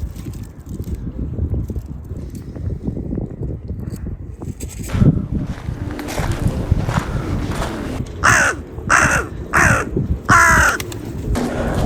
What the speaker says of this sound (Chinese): 像这个乌鸦啊，在很多书上看到啊，这个乌鸦是一个特别聪明的一个鸟